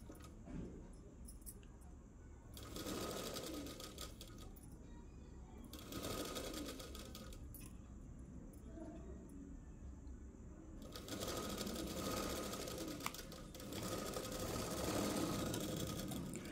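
A sewing machine runs in several bursts of steady stitching, sewing the shoulder joints of an umbrella dress with a half-inch margin, with quieter pauses and handling of cloth between runs, close by.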